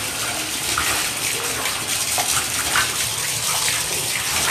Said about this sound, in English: Gotta rinse it down one more time